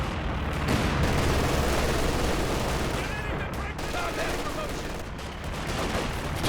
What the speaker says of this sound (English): That's the bazookas.